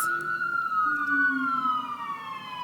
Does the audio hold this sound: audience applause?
no